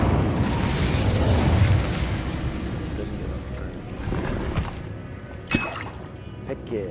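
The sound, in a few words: Incendio fire spell blasts in Hogwarts Legacy video game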